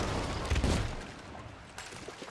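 Cannon fire in a naval video game, a couple of muffled booming shots in quick succession followed by a quieter rumble and a fainter later blast, fairly distant and low in level.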